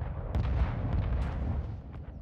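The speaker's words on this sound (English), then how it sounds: "Guys, look at the airstrike." Airstrike explosions land in Call of Duty Warzone, a dense run of heavy booms and sharp blasts rumbling continuously at moderate distance.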